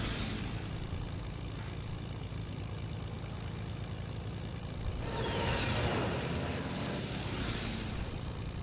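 An airplane engine drones steadily in the Fortnite video game, a constant propeller hum with a couple of rushing whooshes near the end.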